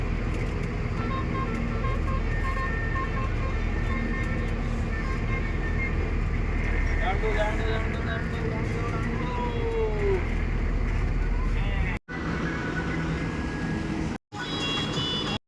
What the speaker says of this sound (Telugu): ఎన్ని బస్సు బస్సులు కార్లు అన్నీ వచ్చేసినాయి గోలగోల అయిపోయింది ఇక్కడ